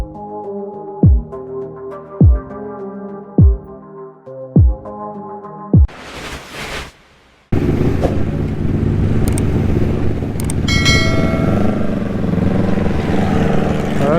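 A Modenas Ninja 250 motorcycle rides toward Genting along the Karak route. After a short run of plucked musical notes and a whoosh, a loud, steady engine drone with wind noise fills the rest.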